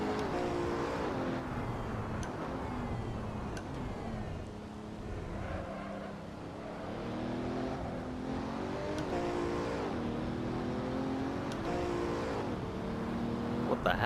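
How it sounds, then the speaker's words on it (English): Racing car engine in the Assetto Corsa driving game, revving up repeatedly through shifts, rising whine then dropping, loud and continuous for the whole stretch. "If I upshift and I keep my foot down, it just goes up in the RPMs"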